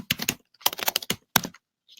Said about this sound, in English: just press up on the keyboard